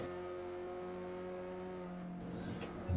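Mazda Miata race car engine at Sonoma Raceway in the iRacing sim, a steady buzzing drone held at a constant pitch that shifts to a rougher note near the end, fairly faint.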